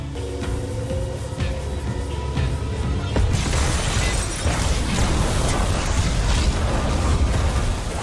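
A loud, sustained blast in the El Camino movie, a broad roaring rumble that swells around the three-second mark and keeps rolling and crackling steadily to the end, with no speech over it.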